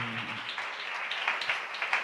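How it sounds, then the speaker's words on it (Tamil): A church congregation clapping hands in thanks to the Lord, a soft, fairly distant patter of many hands with a few sharper claps standing out, brief and without voices. "நல்ல 2 கைத்தட்டி ஆண்டவருக்கு நன்றி சொல்லுங்களேன்"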